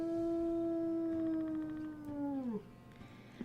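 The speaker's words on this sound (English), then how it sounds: "Here's her howl." Single long wolf howl from the WolfQuest video game, a clear sustained tone that holds steady then slides downward and fades out, heard alone.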